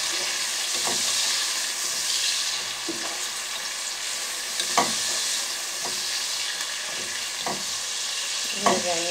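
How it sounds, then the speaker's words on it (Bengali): Rui fish frying with salt in a pan, a steady hiss of hot oil with periodic scraping strokes of a spatula stirring the pieces, close and fairly loud. "একটু নেড়ে দেবো, লবণটা যাতে মিক্স হয়।"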